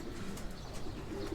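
Pigeons in a rooftop loft, soft cooing faintly heard over quiet background rustle, brief and low in level.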